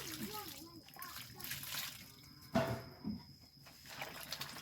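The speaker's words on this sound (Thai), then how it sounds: "เดี๋ยวล้างน้ำก่อน" Food is rinsed in water with splashes and sloshing, including one louder splash midway, while a person talks throughout.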